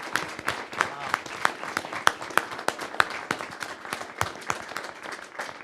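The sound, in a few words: audience applause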